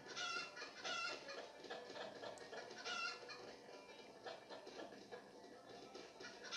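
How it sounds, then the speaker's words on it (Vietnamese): Chickens cluck repeatedly in a chicken-catching party video game, a busy cluster of bright, fairly faint clucks over several seconds with no talking. "Cuộc thi bắt gà."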